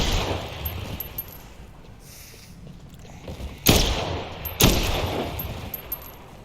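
Gunfire in the video game Dead Island 2 gives two sharp, loud shots a second apart over a busy background of game noise and smaller clatter, with no talking.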